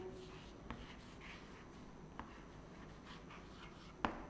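Pen or chalk writing during a classroom lecture, with faint, close scratching strokes and a few soft taps that mark the surface, while no voice is heard.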